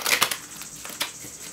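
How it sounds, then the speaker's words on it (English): Tarot cards being shuffled by hand, a quick burst of crisp riffling clicks followed by a few softer, sparse card flicks, close and fairly quiet. "So one more shuffle for you."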